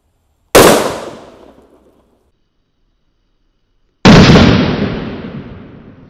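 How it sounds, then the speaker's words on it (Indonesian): A colorful sweater firecracker set off in a hole in the ground, two sharp loud blasts a few seconds apart, each trailing into a fading rumbling decay. "ini penutupnya yang bledosnya banter ya colorful sweater kita nyalakan di lubang tanah bosku"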